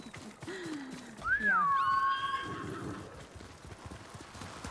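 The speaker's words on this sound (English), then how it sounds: "You're a good horse, Kage." A horse's hooves clip-clop steadily in the video game Ghost of Tsushima while the horse gives a clear rising and falling whinny midway, moderately near over soft ambient game sound.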